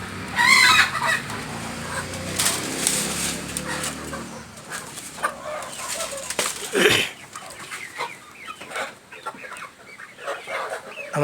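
Chickens cluck and squawk close by in a small backyard coop, a busy, noisy yard, with a brief louder burst partway through and scattered calls continuing.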